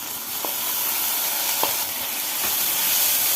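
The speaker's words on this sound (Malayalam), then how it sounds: "പരിപ്പിട്ട് ഒന്ന് നല്ലപോലെ മിക്സ് ചെയ്ത്" Lentils and sliced green chillies sizzle in hot oil in a pan for a Kerala drumstick-leaf and moong dal thoran, a steady broad hiss broken by a few soft scraping stirs, close and alone.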